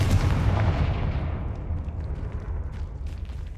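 Explosive Confringo and Bombarda spells fire in the video game Hogwarts Legacy, a loud, dense run of overlapping booming blasts with a rumbling low end that roll on continuously without a pause.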